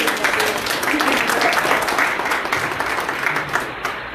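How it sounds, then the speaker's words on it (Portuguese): A church congregation applauds during a Portuguese sermon, a thick continuous wash of clapping with scattered voices and cheers, loud and close. "Dá para aplaudir Jesus por isso?"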